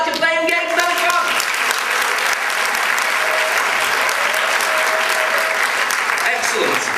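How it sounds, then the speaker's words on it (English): A theatre audience at a hypnosis show breaks into a full round of applause, dense steady clapping filling the hall for several seconds, with a few voices and cheers faintly mixed in near the start. "But when you hear this round of applause, you will love the fact you're playing games."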